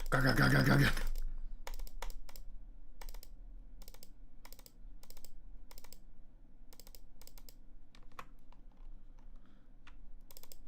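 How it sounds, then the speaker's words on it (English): Rapid computer mouse clicking while speed-clicking through a gaming main board: a steady run of sharp, light clicks over several seconds, close and fairly faint over a constant low hum, after a brief loud burst at the start. "I'm just fucking speed clicking everything back into the main board. Click, click, click, click, click."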